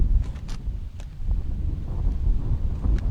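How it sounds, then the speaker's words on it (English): Steady wind buffets the microphone with a low, rumbling roar, gusting throughout, with a few faint clicks and taps above it. "Pretty windy out here."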